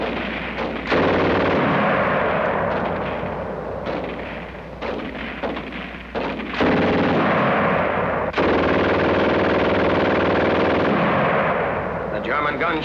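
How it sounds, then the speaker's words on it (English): Rapid German machine gun fire, an MG 34 or MG 42, in sustained loud bursts with echo and artillery-like booms, mixed with narration throughout. "German gun shoots fast."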